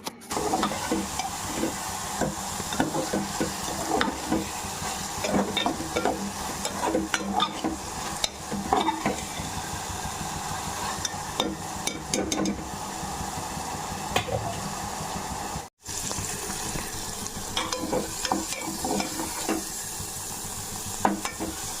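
Tender ridge gourd pieces with added salt cooking in a pan, with a steady close sizzle and frequent scraping stir strokes throughout and a brief gap partway, no voices.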